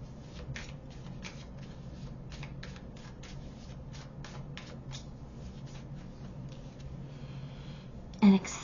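Tarot cards are shuffled by hand in a quiet room, a rapid series of soft riffling and flicking bursts that repeat steadily for several seconds before a brief louder knock at the end.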